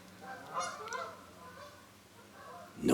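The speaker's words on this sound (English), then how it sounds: "And geese going over." Geese honk as they fly overhead, several nasal calls rising and fading at a moderate distance, with no talk.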